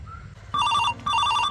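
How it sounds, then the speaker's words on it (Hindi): A telephone ringtone chirps in two clear electronic bursts separated by a short pause, loud and close, over a faint low hum in a rural comedy scene. "केकर फोन चले ले?"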